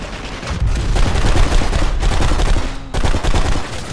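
Rapid bursts of gunfire in the PC shooter BlackSite: Area 51, loud and dense, with sustained automatic firing broken by two brief pauses.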